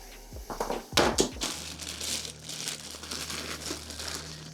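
Plastic bags of removed Ducati motorcycle parts being rummaged through in a box, close crinkling and rustling with a few sharper rattles of the contents, no voices.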